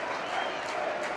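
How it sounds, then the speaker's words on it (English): Football crowd at Burton cheering as the goalkeeper saves a penalty in a shootout against Leicester City, a steady broad roar of cheering and clapping that holds through the moment without clear peaks. "it's saved by Garrett to the delight of the Burton crowd"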